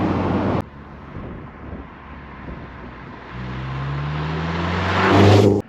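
A Toyota MR2 Mk3 pulls over with wind roar and a loud, steady engine note that rises and swells toward the end before cutting off.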